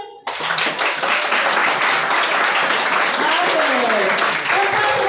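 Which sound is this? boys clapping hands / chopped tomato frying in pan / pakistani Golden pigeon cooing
boys clapping hands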